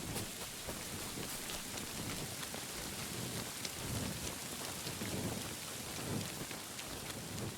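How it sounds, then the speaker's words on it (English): Steady rain pours down in the video game Kingdom Come Deliverance 2, a dense, even hiss with low rumbling undertones that could be distant thunder, continuous throughout with no talking. "Rain is useful."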